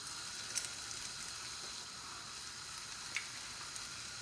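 Oil heats in a pan for frying fish pakoras, giving a faint, even, continuous hiss with a couple of tiny pops and no voices.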